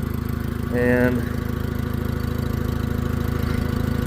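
A repaired tractor's engine idles with a steady, loud, rhythmic low chug throughout, while a brief burst of higher whine rises in the first second and a single short spoken word sits over it.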